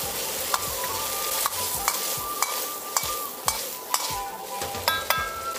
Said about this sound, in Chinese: 倒入腌制好的菌花，大火快速翻炒均匀，炒至变色就可以了